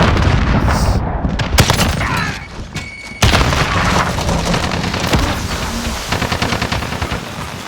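An enemy grenade goes off with a loud boom in the shooter game Modern Warfare, set among dense, rapid gunfire and thuds that continue close and heavy throughout.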